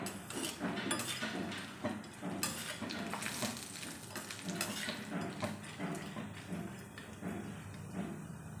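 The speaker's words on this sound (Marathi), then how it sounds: "तेल टाकून हे सांडगे आपण छान भाजून घ्यायचे आहे" Sandge lentil dumplings fry in oil in a kadhai, a soft sizzle mixed with scraping and light clinks of a spoon against the pan, quiet and steady throughout.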